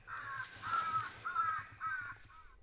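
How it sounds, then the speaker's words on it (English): Crows caw in a run of four or five harsh calls with short gaps between them, moderately faint and somewhat distant, on a hunting outing. "them crows were a little bit out of shotgun range"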